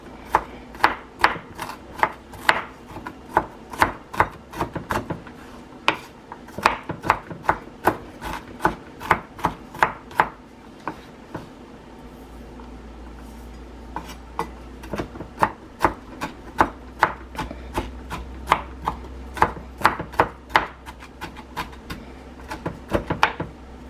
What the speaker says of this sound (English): We're going to mince them.